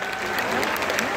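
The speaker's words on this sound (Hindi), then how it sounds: "जोरदार तालियों से हरियाणवी के इस बेताज बादशाह का स्वागत करें।" An audience at a college youth festival comedy show claps loudly to welcome a Haryanvi comedian, a dense, continuous burst of applause filling the whole moment.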